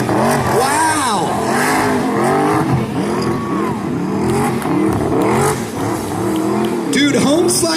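A 1984 Ford Fairmont four-door roars through a burnout at an NMRA Ford fest burnout competition in Bowling Green, Kentucky, engine revving hard and wavering continuously amid crowd noise while someone talks excitedly over it.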